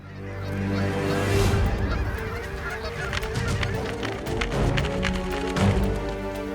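A flock of waterfowl honks overhead, a dense, continuous chorus of goose calls that stays loud and close throughout, with no talk.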